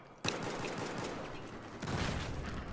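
Gunfire in the video game Battlefield 4 opens with a sharp shot, carries on as a steady noisy rattle, then swells again near the end, all fairly loud and with no talk over it.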